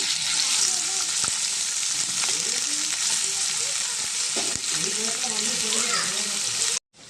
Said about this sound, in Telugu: ఒక ఉల్లిపాయ వేసానండి ఫ్రై చేసుకుంటాం